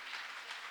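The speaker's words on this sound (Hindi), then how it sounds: "Once again, clap your hands and worship the Lord." A worship congregation claps together in a steady, dense wash of applause that fills the space and carries on without any speech over it.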